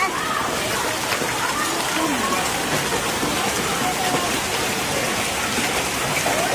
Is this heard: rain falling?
yes